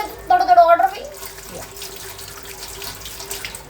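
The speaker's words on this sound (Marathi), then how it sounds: "पाणी माझ्या फोनला पाणी मारते." Water runs from a kitchen tap and splashes into a sink, a steady hiss heard close by while two people chat over it.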